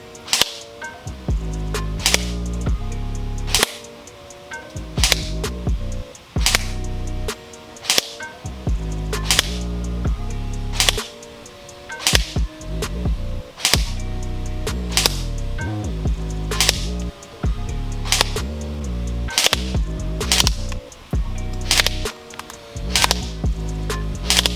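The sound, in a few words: Elite Force H&K G36C airsoft rifle shooting 0.25 gram BBs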